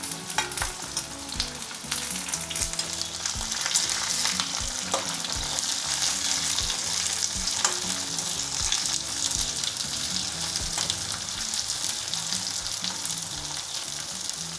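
Onions fry in a pan with a loud, continuous, dense sizzle and crackle, broken by occasional stirring scrapes, and no talking.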